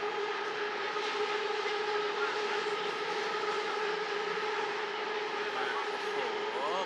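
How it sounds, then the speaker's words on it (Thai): Bangkok skytrain pulling in near the Sathorn intersection, a steady tonal whine and hum from the electric train that holds loud and continuous throughout, with the rumble of city traffic underneath. "มาแล้วรถไฟฟ้ามาแล้ว"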